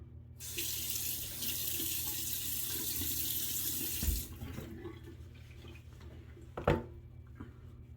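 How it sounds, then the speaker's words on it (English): Water runs steadily from a bathroom tap for about four seconds while a face is wetted before a razor shave, then stops, followed by a few faint splashes and a clunk. "I'm gonna wet my face a little bit more."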